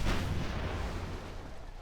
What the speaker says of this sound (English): And that's cannon.